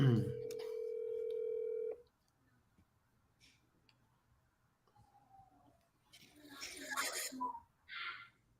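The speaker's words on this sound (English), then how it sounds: "I'm dialing the number right now" A phone call being placed: a loud steady tone sounds for about two seconds, then near silence with faint ticks, then a burst of noisy ringing and rustle before a short final blip.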